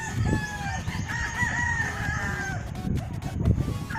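Roosters crow and cluck steadily in a backyard cockfighting area in Lapu-Lapu City, several birds overlapping at close to moderate range, with long harmonic crows rising over the clucking and a thick layer of yard noise beneath.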